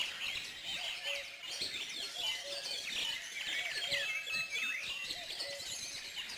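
Several birds sing and chirp in a garden, with repeated bright tweets and a recurring short whistled note, fairly faint and distant, over a soft quiet background with no talking.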